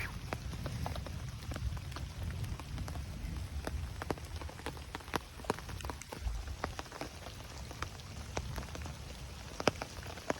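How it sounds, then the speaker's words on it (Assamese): Rain falls on a tent during an overnight camp, with scattered sharp drops tapping the fabric in an uneven, steady patter over a soft background hiss. "বৰষুণ যাক পূৰা চিপচিপকৈ দি আছে"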